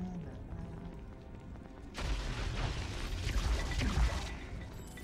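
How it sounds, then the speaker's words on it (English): An explosion in Baldur's Gate: Dark Alliance on PS2 hits abruptly with a loud burst, rumbling and crashing debris for a few seconds before tapering off. "Ooh, explosion!"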